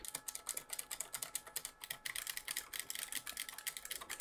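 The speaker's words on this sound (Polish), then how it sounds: "Omnipointy u Steela. Fajny klik, bardzo satysfakcjonujący dźwięk." SteelSeries OmniPoint mechanical keyboard switches click in a quick, steady typing rhythm, close and crisp, with no voices over the keystrokes.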